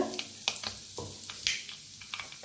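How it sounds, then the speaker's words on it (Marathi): Mustard seeds, cumin and a pinch of asafoetida sizzle in a little hot oil, a faint, steady frying hiss scattered with quick crackling pops. "तेल कमी झाले, त्याच्यात टाकूया अर्धा चमचा मोहरी, अर्धा चमचा जिरं, थोडंसं हिंग"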